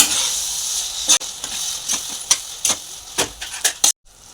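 Yogurt masala for veg biryani sautéing in oil in a pan: a close, continuous sizzling hiss broken by repeated sharp scraping strokes of a spatula, stopping abruptly near the end.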